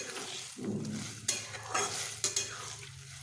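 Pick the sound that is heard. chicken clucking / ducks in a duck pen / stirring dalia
stirring dalia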